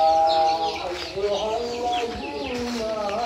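A small flock of village farm chickens clucks and chatters continuously nearby, several birds overlapping in short calls.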